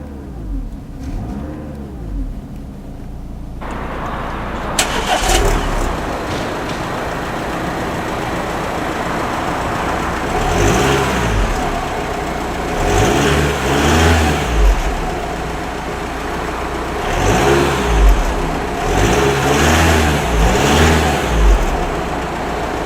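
A 2009 Audi A4 S-Line engine cranks and catches, then settles into a low idle broken by several repeated revs that swell and fall back, heard close with no talk.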